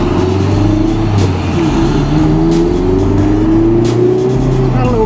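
A 2017 Mazda MX-5 RF with a 6-speed manual accelerates on a test drive, its engine note rising steadily in pitch from inside the cabin, loud and continuous over road noise.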